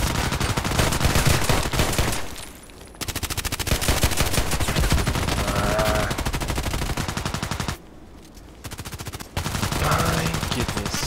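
Rapid gunfire from a shooting video game with pistol longshots, dense bursts of shots running almost continuously and loudly, broken by two short pauses.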